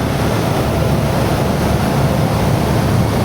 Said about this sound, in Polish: bo tutaj jest ocean